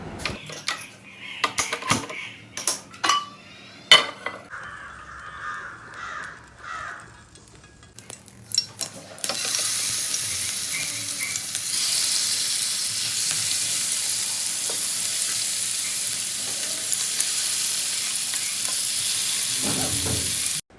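Fish frying in a pan, a steady, bright hiss of oil that starts partway through and holds evenly to the end, preceded by scattered clatter and faint background sounds.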